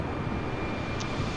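Airbus A320neo jet engines in Microsoft Flight Simulator 2020, heard as a steady broadband cockpit roar during level flight, loud and continuous with no talk over it.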